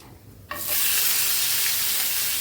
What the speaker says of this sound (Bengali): পেঁয়াজ আর কয়েক টুকরা রসুন ভেজে নেব লাল লাল করে।